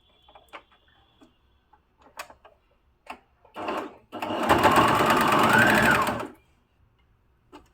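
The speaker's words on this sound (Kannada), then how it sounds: "ಇದನ್ನು ಹೀಗೆ ಮಡಚಿಬಿಟ್ಟು ಹೀಗೆ ಫೋಲ್ಡ್ ಮಾಡಿ ಸ್ಟಿಚ್ಚನ್ನು ಹಾಕ್ಕೋತಾ ಇದ್ದೀನಿ" A sewing machine stitches a folded fabric strip for a small bag, running in a loud steady whirring burst of a couple of seconds after scattered clicks and handling taps, then stopping.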